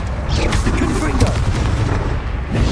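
In Hogwarts Legacy, the Confringo fire spell explodes as a heavy booming blast with rumbling low crackle, loud and close, followed by further impacts, while a voice talks over it.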